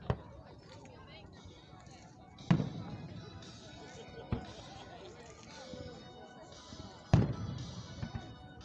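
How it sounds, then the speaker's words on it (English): Fourth of July fireworks show in Van Wert, Ohio: a few sharp booms ring out over a steady crowd murmur, with one near 2.5 seconds and another near 7 seconds, plus a smaller pop between them. "It's time for the fireworks show"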